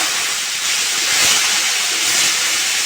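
Ginger paste hits hot oil already seasoned with cloves, cardamom, bay leaf and cumin, giving a loud, steady broadband sizzle and hiss that holds evenly for about three seconds with no voices.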